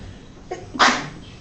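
A single short sneeze indoors in a lecture room, sharp and fairly close after a faint breathy lead-in, with a quiet room around it.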